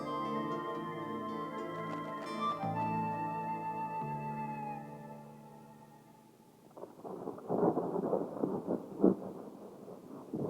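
A thunderstorm rolls across the open prairie, its broad rumbling, rain-like wash of noise rising and swelling after a stretch of sustained tonal music fades.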